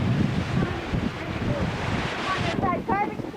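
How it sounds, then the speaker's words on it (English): Gusty hurricane wind roars against the microphone with heavy rain and ocean surf at a coastal backyard during Hurricane Irene in 1999, loud and steady, with a voice speaking briefly toward the end. "Getting some heavy rain here."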